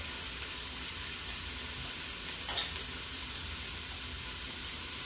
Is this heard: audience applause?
no